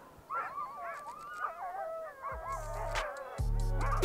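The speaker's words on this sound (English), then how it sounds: "I could hear the dogs barking all day," Outside a house in Greenland, sled dogs howl and yip in a wavering chorus at middle distance, with a low rumbling noise cutting in partway through.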